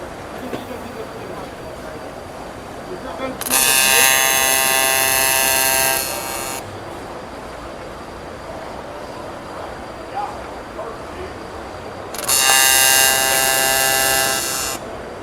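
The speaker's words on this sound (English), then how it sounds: "I'm just gonna fuse tack these into a T-joint" Welder fuse tacking two metal pieces into a T-joint at a fabrication trade show: two loud, steady, buzzing arc bursts of about three seconds each, separated by a quieter stretch of hall noise and talking.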